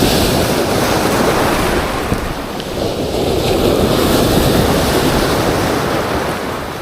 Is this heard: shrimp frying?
no